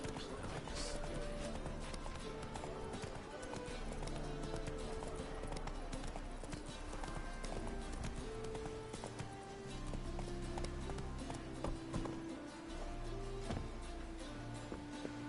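Horse hooves clip-clopping in the Witcher video game, a steady trotting beat that continues throughout beneath game music and ambient sound.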